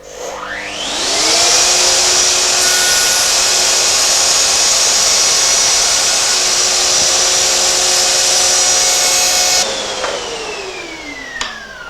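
A Festool CMS OF router table spins up with its dust extractor connected, holding a loud, steady high whine for about eight seconds before winding down.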